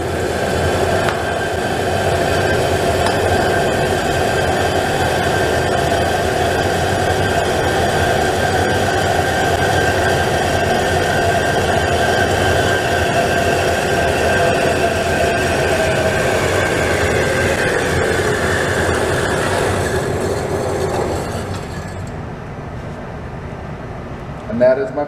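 A metal lathe runs steadily while machining a tool-steel tap handle with coolant, giving a constant mechanical hum with a whining tone that winds down near the end.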